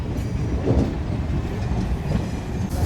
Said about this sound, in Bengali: আমাদের ট্রেন আবার ছেড়ে দিল ঢাকার উদ্দেশ্যে।